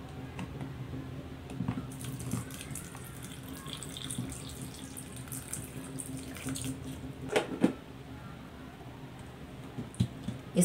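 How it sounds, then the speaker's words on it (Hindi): Water from a tap runs steadily into a container of falsa fruit with salt and sugar, a continuous close splashing pour with a few brighter splashes near the end. "पानी ऐड करेंगे,"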